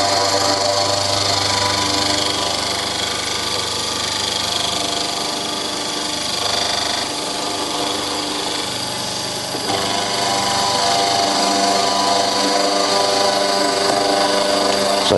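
Milling machine with an 8 mm cutter clearing a pocket from the middle of a metal low-profile DTI holder, a steady loud grinding whir that holds unbroken throughout, close to the machine.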